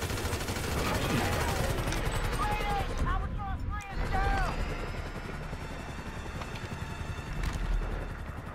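Gunfire in the GTA V action game comes in dense rapid bursts and rattling volleys, with voices talking over the shooting and some whistling tones partway through.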